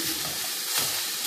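Onions and peppers sauté for fajitas, giving a steady, close sizzle of frying vegetables that holds even through the short moment.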